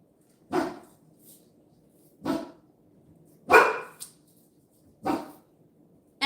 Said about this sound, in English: even when I tell her to stop barking, she just doesn't